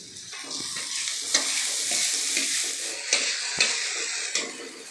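Carrots, potatoes and spring onions stir-fried in a pan, with a steady close sizzle and hiss throughout and occasional utensil scrapes and taps against the pan, no voices.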